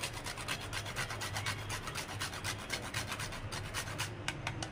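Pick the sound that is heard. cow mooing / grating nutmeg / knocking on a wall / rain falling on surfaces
grating nutmeg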